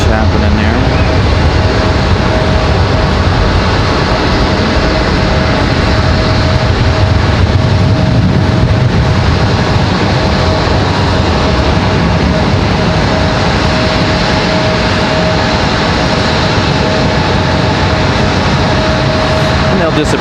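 A JetBlue Airbus A321-200 departs Raleigh-Durham for Boston, its engines a loud, steady roar lasting throughout with a constant tone, under broad background noise and occasional voices.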